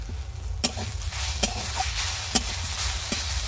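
Vegetables are stirred in a pan, with sharp scrape-and-tap strokes from a spatula landing every second or so over a constant low sizzle, close and fairly loud.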